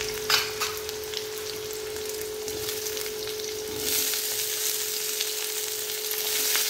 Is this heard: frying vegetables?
yes